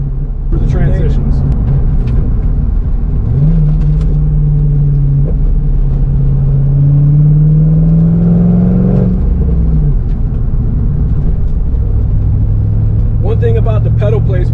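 Corvette C5 Z06 engine driving on a road with elevation changes, a steady loud rumble with rising and falling revs under continuous talk.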